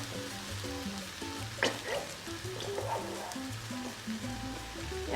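Curry chicken sizzles steadily in a pan as cream is poured in. The frying hiss comes close and continuous, with stirring clinks and a low hum running under it.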